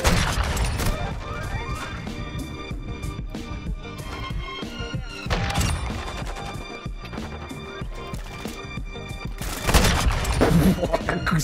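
Rapid sniper rifle fire in Call of Duty Modern Warfare II, loud sharp cracks repeating in quick bursts over dense game sounds and music, with heavier blasts near the start, middle and end, and a voice talking faintly beneath.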